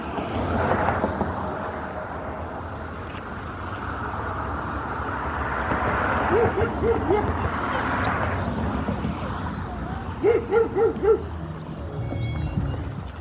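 Four dogs being walked outdoors bark in two short clustered bursts of three or four yaps each, moderately close, while a person talks over steady background noise.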